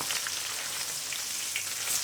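Chicken pieces fry in a pan with a steady, close, crackling sizzle that holds evenly throughout, with no voices.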